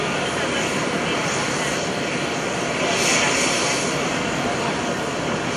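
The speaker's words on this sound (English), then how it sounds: "from your left, you will see the KC-130 Hercules with the two CH-53E Super Stallions joining to demonstrate aerial refueling" A KC-130 Hercules tanker and two CH-53E Super Stallion helicopters pass overhead at an airshow aerial-refueling demonstration, a loud, steady, unbroken engine and rotor roar that fills the whole stretch and peaks slightly near the middle.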